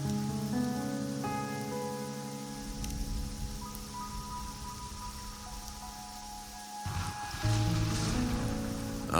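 Steady rain falls in Raguna in the video game Wuthering Waves, a continuous hiss of drops on surfaces with a low tonal music bed underneath, with no talking.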